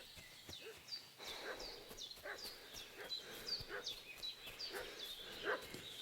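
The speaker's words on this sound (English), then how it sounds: "What's that dog making such a fuss about?" A dog barks repeatedly in the video game Kingdom Come Deliverance 2, a run of sharp, fairly faint yaps at an irregular pace with birds chirping in the background.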